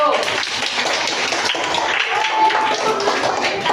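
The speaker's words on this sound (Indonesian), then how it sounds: "Ya, beri tepuk tangan untuk kelompok 1." Elementary school children in a classroom at SD Negeri Muara Beres, Bogor, clap for group one, a dense scatter of close hand claps running the whole time, with a teacher speaking over it.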